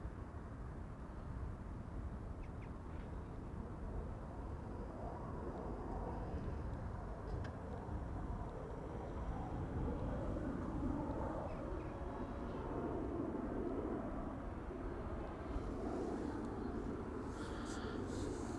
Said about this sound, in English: BizJet just now took off from runway 22.